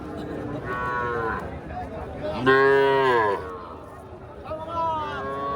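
Young calves moo loudly at a cattle market, several drawn-out bellowing calls spaced a second or two apart, with people talking and crowd murmur around them.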